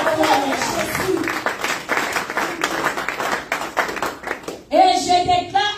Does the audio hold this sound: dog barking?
no